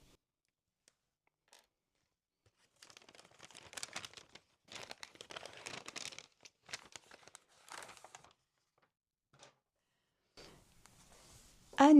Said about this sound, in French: je fais silence pour ouvrir le paquet